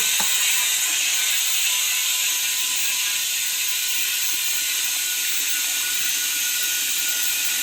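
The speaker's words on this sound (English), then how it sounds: "So now I'm gonna switch it to dispense. So we're just gonna pump this fluid from here to here." A VEVOR transmission fluid pump dispenses fluid with a steady hissing, mechanical whir that runs unbroken and fairly loud throughout, with no talking.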